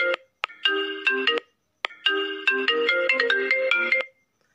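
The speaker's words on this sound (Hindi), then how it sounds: "तो आपने देखा इस प्रकार से आप अपने नेम का रिंगटोन बना सकते हो" A custom name ringtone plays on a mobile phone: loud, close melodic bursts in two phrases separated by a short gap, ending in silence.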